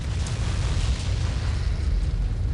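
An explosion in the Return to Castle Wolfenstein video game, a dense, rumbling blast with heavy low-end roar that sustains evenly for a couple of seconds, loud and with no voices over it.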